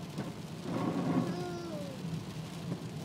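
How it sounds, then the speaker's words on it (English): A heavy thunderstorm downpour of rain and hail in East Yorkshire, heard from a road, makes a loud, steady wash of noise throughout, with a few brief tonal whines rising above it. "Absolute dumping of rain and hail."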